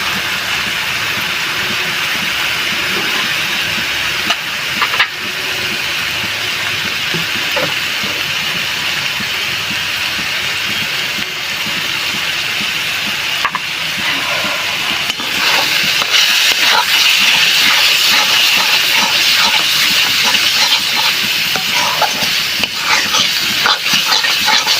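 Turmeric, Kashmiri chilli and white oil mixture sizzling steadily in a hot pan for chicken kosha, a continuous loud hiss with crackle that grows slightly stronger later, no talk.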